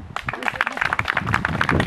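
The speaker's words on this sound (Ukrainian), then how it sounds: "Ну, бабусі тепер оплески" An audience claps for a grandmother at an open-air Chopin music festival. Steady, dense applause runs throughout with a voice speaking over it.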